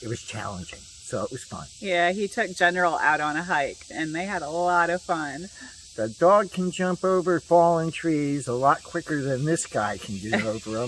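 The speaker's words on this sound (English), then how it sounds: "you can probably hear the cicadas in the background" A steady high buzz of cicadas runs continuously in the background beneath someone talking throughout, faint but constant, near the Mississippi River.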